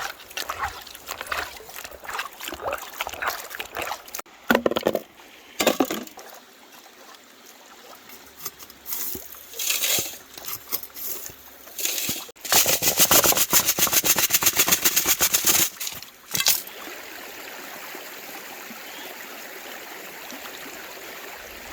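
Gravel scraped from a river bottom in Australia and sucked up with a yabby pump, heard as irregular bursts of scraping, gurgling slurps and water sloshing, loud and close with quieter watery stretches between.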